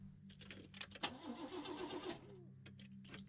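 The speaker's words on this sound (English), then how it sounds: "Start the car." A car engine in a video game cranks and fails to catch, a mid-pitched sputtering turnover lasting about a second, with clicks and key-like jingles before and after over a steady low background hum.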